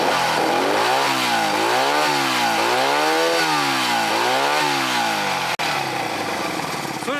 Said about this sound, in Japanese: 2000回転以上回らなかったエンジンが突然回るようになりました。